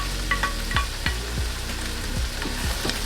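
Mushrooms frying in a pan with cooked chicken give a steady sizzle, with a few soft clinks and scrapes of stirring on top, no voices.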